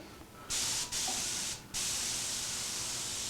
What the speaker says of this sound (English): I'll just hold it and spray. And I got my airbrush out